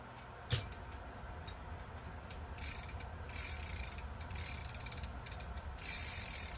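A ratchet with a 12 mm socket works a nut on a vintage D.A.M Quick 220N fishing reel, one sharp knock followed by bursts of close, rapid clicking.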